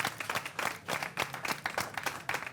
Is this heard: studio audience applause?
yes